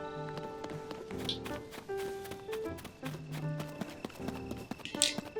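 Horse hooves in the game Zelda: Tears of the Kingdom, a run of quick, crisp clip-clop taps over game music tones, with brief chime-like accents.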